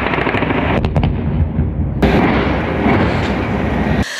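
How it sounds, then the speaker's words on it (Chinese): Gunfire and artillery in Rafah, dense, loud bursts of shooting and heavy booms crowding together in a continuous barrage. "连埃及一侧都能听见枪炮声"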